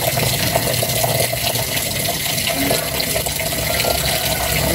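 Tap water runs steadily in a continuous wash while laundry is scrubbed and rinsed by hand, a close, even splash filling the whole stretch with no speech over it.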